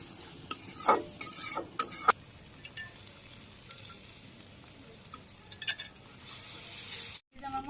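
Spice masala of salt, turmeric, dry chilli powder and green chillies being sautéed in a pan in a Bangladeshi village kitchen, with soft sizzling, scraping stirs and a few metallic clinks, fairly quiet, no talk.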